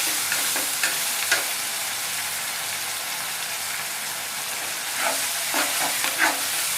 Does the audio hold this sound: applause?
no